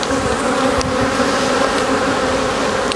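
Honeybees buzz densely around an open hive during a beekeeper's late-season inspection, a close, steady, loud droning hum with no voices over it.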